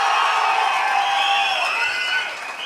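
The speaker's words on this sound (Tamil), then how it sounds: "ஒரு பெரிய கைத்தட்டல் தரணும்." A large crowd at a political rally cheers and claps in a loud, steady roar of voices and hands, sustained throughout and easing slightly at the end.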